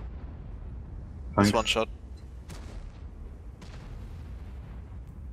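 One loud explosion burst from a World of Tanks airstrike, followed by fainter distant blasts, with someone talking over the battle.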